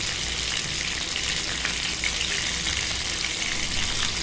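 Loitta fish fries in a pan and is flipped, a dense, even hiss of sizzling oil that stays loud and unbroken throughout, with faint crackles and no voices.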